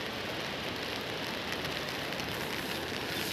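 Heavy rain pouring down steadily in the Kullu mountains of Himachal Pradesh, a dense, continuous hiss of drops hitting surfaces, close and loud with no voices.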